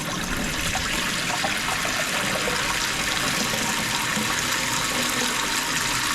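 Steady rushing water flows continuously through household plumbing pipework, a constant hiss, with no voices.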